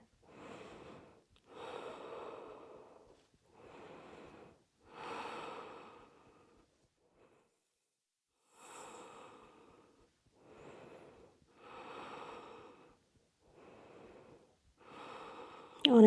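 Slow, deliberate breaths during a yoga core and back exercise, about nine audible inhales and exhales spaced a second or two apart, close and fairly soft in a quiet room.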